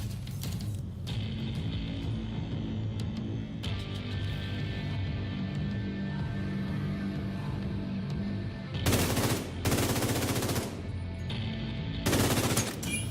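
Automatic gunfire in The Division 2, heavy bursts cutting sharply through a low, rumbling battle bed, with two loud sustained volleys close together near the end and a third shortly after.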